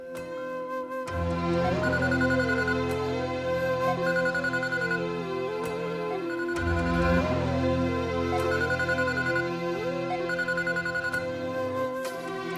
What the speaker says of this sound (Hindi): पापा, आप फोन क्यों नहीं उठा रहे हैं?